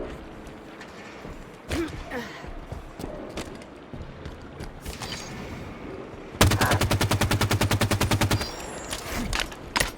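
Gunfire in the video game Halo 5: Guardians starts as scattered single shots and turns into a rapid, even burst of automatic fire for about two seconds, with more shots after it, under game sound.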